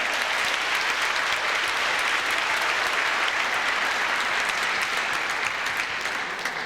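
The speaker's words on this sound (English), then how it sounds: "let's give another round of applause for the tournament runner-up" Steady, dense applause from a crowd at a youth little-league basketball championship, many hands clapping continuously at an even level throughout.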